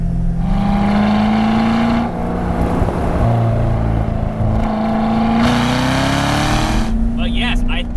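A 2018 Corvette Grand Sport with a naturally aspirated LT1 V8 accelerates hard, its loud, close engine note rising steadily through the gears. Someone talks over the roar for most of the stretch.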